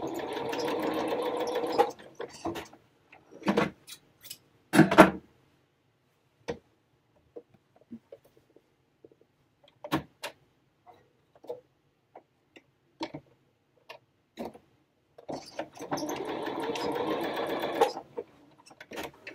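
Sewing machine stitching the armholes of a cropped faux fur vest, heard in two loud sustained runs at the start and end, with scattered clicks and handling taps in the quiet stretch between.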